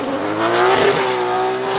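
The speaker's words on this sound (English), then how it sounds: "Listen to that exhaust note," A loud drift car engine roars steadily during Formula Drift qualifying at Wall, 2019, its exhaust holding a sustained high-revving note with a faint tire squeal underneath.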